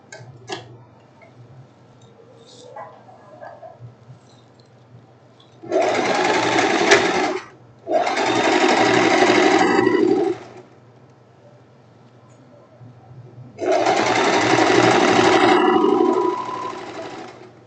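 Sewing machine stitching the side seams of a silk tank top, running in three loud rapid bursts of a couple of seconds each, separated by quiet pauses with faint handling clicks.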